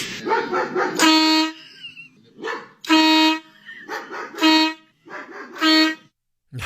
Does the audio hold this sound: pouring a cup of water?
no